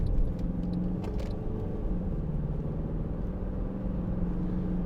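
A Mercedes-Benz C200 CDI BlueEFFICIENCY SE with 7G-Tronic cruises on a motorway, heard from inside as a steady low road and engine rumble with a few faint clicks at the start and no talking.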